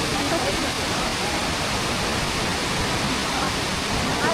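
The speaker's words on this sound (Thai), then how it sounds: "นี่เลยพี่น้องอยู่ทางหน้านี่จุดน้ำตกที่ว่าสูงสุดของตาดกวางซี" Kuang Si waterfall in northern Laos gives off a dense, constant roar of falling water that stays loud and close throughout, with no voices.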